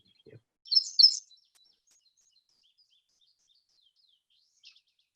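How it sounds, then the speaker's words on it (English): A song sparrow sings alone with a couple of short, bright bursts of notes close together early on, then a faint trailing chirp; quiet surroundings. "Song sparrow."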